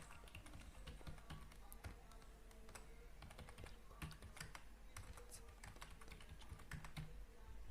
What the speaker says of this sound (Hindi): आधार नंबर इंटर कर देते हैं।